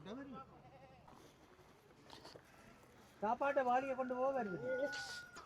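Goats bleating on a goat farm in Canada, a couple of wavering bleats early on and then a louder, longer run of overlapping bleats near the end, with some talking in the background.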